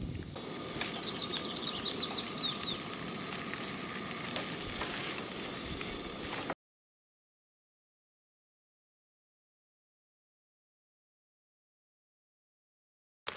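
Onions, peppers, jalapenos and scrambled eggs frying for breakfast burritos at a campsite in the Deschutes National Forest, a steady close sizzle with faint bird chirps, cutting off abruptly into silence halfway through.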